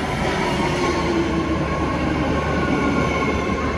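A 10-car, 3-door Fleet of the Future BART Yellow Line train on the Antioch line rumbles steadily at Concord Station's platform, with a dense metallic roar and faint squealing wheels, loud and continuous.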